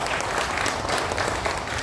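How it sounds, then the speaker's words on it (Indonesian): A crowd at a LASQI installation ceremony in Bandung breaks into loud, sustained applause, a dense wash of clapping filling the whole moment. "Tepuk tangan."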